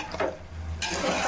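Onions with one or two tomatoes being stirred in a pan while cooking dosakaya curry, soft scraping and sizzling moving through the mixture in short continuous strokes at close range, with no talking.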